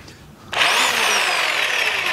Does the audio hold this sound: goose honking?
no